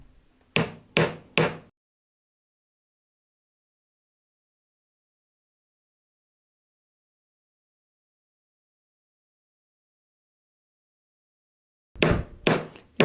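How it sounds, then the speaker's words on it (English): Hammer blows texturing a metal cuff bracelet, three sharp close strikes in quick succession, then long silence before another fast burst of several blows at the end. "I'm just going to hammer just kind of back and forth and in the middle all the way down"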